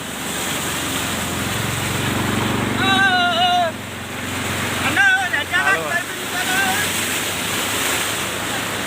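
Knee-deep floodwater from heavy rain in Madhira surges through submerged colony roads with a continuous loud rushing wash, while someone talks over it.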